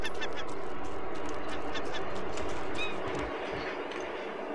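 A bird attacking in the Raft video game: a string of harsh, honking cries sounds over a steady, noisy game background that drops quieter near the end.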